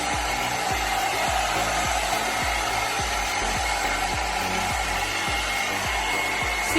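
A Blo Out Brush hot-air styler on low heat blows a steady, close whir across a fringe, with a faint regular ticking running through the airflow and no talking.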